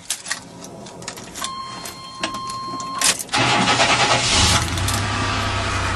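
A car engine cranks and catches right after its battery terminal has been replaced, then settles into a loud, steady idle. Clicks and a short high whine come first, close up, and no one speaks.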